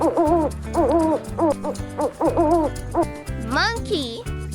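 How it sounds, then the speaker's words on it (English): An owl hoots in a rhythmic series of repeated calls, close and fairly loud, ending with a rising screech-like note, with a spoken word heard among them. "Owl."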